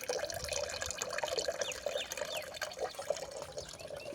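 Water from a rooftop garden's plant pots trickles and drips steadily into water below, a continuous close splashing patter throughout with no talking.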